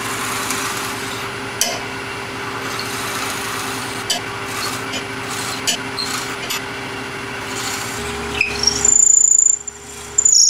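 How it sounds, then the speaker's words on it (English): A drill bores into wood spinning on a lathe, using the tailstock's mark as the starting point, producing a steady high whine and scraping hum, with faint clicks, before the machine winds down near the end. "Just drill it out."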